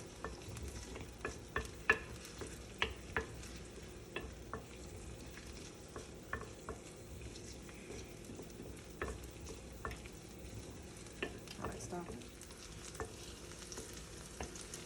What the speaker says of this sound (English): 2 tablespoons of extra virgin olive oil and my small chopped onion. Go ahead and add that. And of course, you're going to be sauteing it.